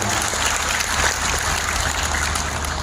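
Audience applause at a live Anies–Muhaimin campaign event in Malang, steady and dense broadband clapping sustained at even loudness throughout, with a faint low hum beneath.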